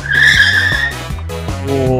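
A Moda Moca RM3988 scooter brakes hard, giving a loud, close squealing skid with a high screech that fades into a wavering, tonal squeal.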